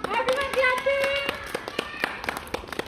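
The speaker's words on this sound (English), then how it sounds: "First, clapping." Kindergarten children clapping their hands in a classroom, a run of sharp claps mixed with a child's sustained singing or calling voice underneath, the claps getting more distinct and spaced toward the end.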